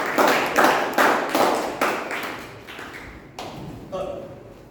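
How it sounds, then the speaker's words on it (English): A small meeting group gives the general evaluator a round of applause, heard as rhythmic bursts of clapping that thin out and quieten, with some talk mixed in near the end. "A big round of applause for our general evaluator."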